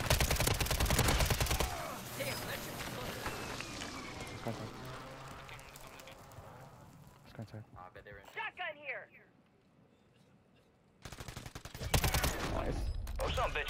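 Warzone video game gunfire, a loud burst of rapid shots at the start, then quieter rumbling and mechanical clatter under a voice, a near-silent gap, and another loud burst of fire near the end.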